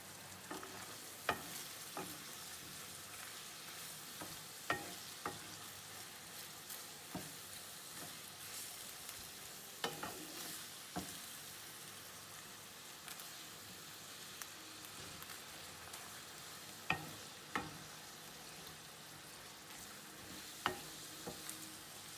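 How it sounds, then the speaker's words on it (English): Ground hamburger meat sizzles and fries steadily in a pan while being stirred for spaghetti sauce, with scattered scraping clicks of the utensil over a constant hiss. "So your meat should be pretty brown by this point,"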